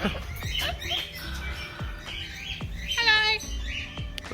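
A cockatoo calls repeatedly in a garden, with short raspy squawks and chirps scattered through, one louder harsher burst in the middle, and light ambient noise around it.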